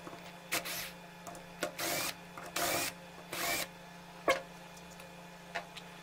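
A power screwdriver whirs in several short bursts while backing screws out of a small DC motor housing, quiet and close, with brief clicks between runs.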